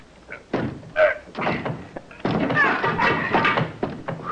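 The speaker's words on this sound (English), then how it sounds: "Try your shoulder on that door, Shaw." Radio drama sound effect of a detective's sidekick forcing a door with his shoulder: several heavy thuds and bangs, close and loud, followed by wood creaking and a burst of splintering clatter, with voices heard briefly.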